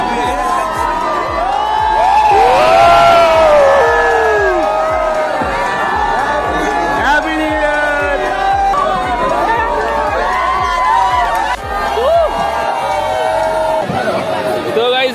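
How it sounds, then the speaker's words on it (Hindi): A large New Year's Eve crowd on Marine Drive in Mumbai cheers, whoops and chatters continuously at close range, with children shouting and someone speaking over the dense, lively din. "भीड़ देखो मरीन में"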